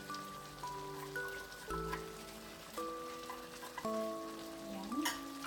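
Beef caldereta with liver spread in a pot gives off a faint, even bubbling and sizzling, with light stirring, beneath soft background music.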